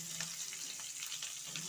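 Chopped onion and capsicum fry in a pan with a soft, continuous hiss and faint scattered crackles, fairly quiet and close, no voices.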